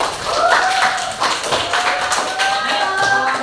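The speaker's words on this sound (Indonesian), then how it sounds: "Tepuk tangan lagi sekali ya, anak." Schoolchildren in a classroom clap their hands together for a classmate's answer, a loose rapid patter of many small hands, fairly near, with a few tonal voices sounding through it.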